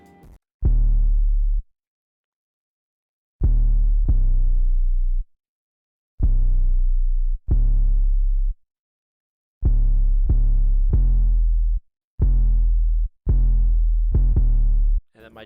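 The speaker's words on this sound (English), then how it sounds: "I just used the plug 808 and just played a basic pattern" An 808 bass in a trap-style beat plays deep booming root notes of the chords in a sparse pattern, each long tone decaying, separated by short silences, loud and alone.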